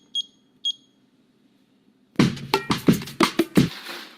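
A kitchen timer goes off after a five-minute countdown, giving two short, sharp electronic beeps close by. Then comes a louder burst of rapid, pulsing beeps as the alarm sounds.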